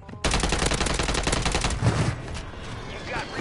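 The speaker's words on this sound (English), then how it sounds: "I'm getting sniped." Rapid sniper and automatic gunfire crackles in a video game, a loud dense burst of shots for about a second and a half before tapering into a rougher, fading rattle.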